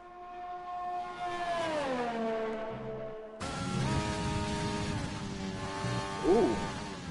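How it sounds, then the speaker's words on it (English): Racing-game race car engine screaming through downshifts, a harmonic whine sweeping down then back up in pitch, loud and continuous throughout, with a sharp jump in intensity partway through. "Ooh, it was scream of the engine there."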